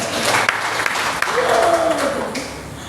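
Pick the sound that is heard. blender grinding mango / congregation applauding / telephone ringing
congregation applauding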